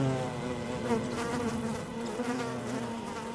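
Small flying insects such as midges buzz in a steady, continuous drone in an outdoor mountain meadow, close and moderately loud throughout with no voices.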